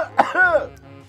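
A single short cough bursts out, then a voiced throat-clearing sound, close and fairly loud, during a Banjo-Tooie game session.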